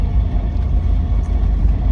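A V8-swapped Camaro cruising on the road gives off a steady, close, low engine rumble with road noise, holding an even level throughout without clear shifts or revs.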